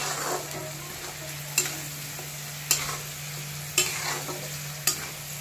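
Onion and grated coconut sautéing in a pan for dhaba-style shev bhaji, with a steady sizzle and frying crackle broken by four or five sharp scraping stirs of a spoon against the pan, close and fairly loud.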